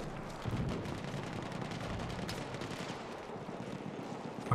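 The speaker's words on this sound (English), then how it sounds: "I can hear shots, I can hear enemies" Rapid gunfire and battle noise from Battlefield 1 on the Prise de Tahure map, a dense, continuous barrage of shots and explosions rumbling at steady loudness throughout, with no voices.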